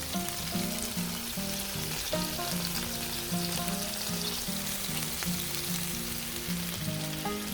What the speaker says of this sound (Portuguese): Vamos dar uma fritadinha nesses camarões.